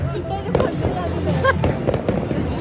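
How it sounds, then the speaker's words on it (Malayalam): New Year fireworks in Sweden, a dense crackle and popping of distant bursts under a steady crowd murmur, with a person talking over it. "ഇനി നമുക്ക് ഫയർ വർക്ക്സ് കാണാൻ വേണ്ടി പോവാം"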